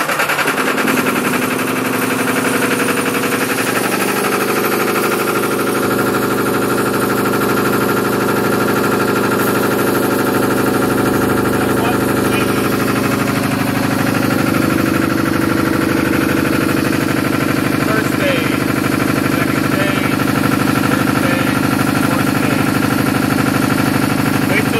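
An engine with an air compressor engaged runs steadily at around 1500 RPM, a loud, continuous close-up mechanical drone with a slight rise in pitch partway through.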